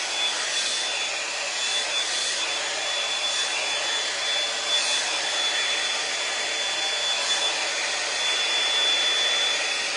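A L'ange Multi Volume hair dryer blows steadily on hair, a continuous close whoosh with a faint high whine, running without a break and without any talk.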